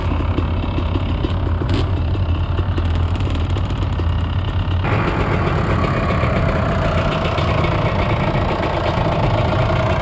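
A 2022 KTM 250 off-road motorcycle engine idles nearby, a loud, steady, rough burbling with a constant low throb and no voices over it.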